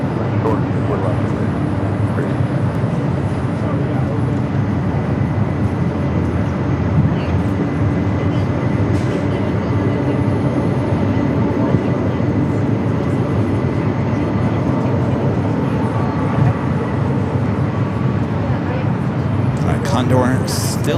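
A Delta Boeing 767-300 taking off from LAX toward JFK: a steady, broad jet-engine roar that holds at one level for about twenty seconds.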